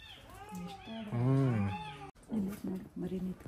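A mother cat meows loudly and close by as she carries off her kitten, with long wavering cries followed by shorter clipped calls, and human voices can be heard nearby.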